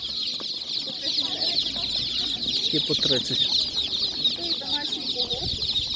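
Domestic roosters and chickens at a rural animal market cluck on and off over a constant high insect-like hiss, with people talking nearby.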